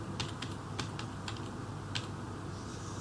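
Scattered, quiet keystrokes on a computer keyboard as a phone number is entered into a web form, several crisp clicks in the first two seconds, then a pause with only faint room hiss.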